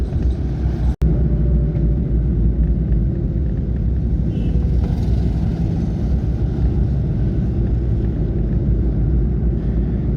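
A vehicle rolls steadily along National Highway 72 toward the Himachal border near Dehradun, with a constant loud low engine and road rumble heard from inside and one sharp click near the start.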